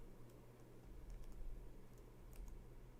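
Typing on a computer keyboard, keys tapped in a soft, irregular stream of close clicks over a low steady hum, with no talking.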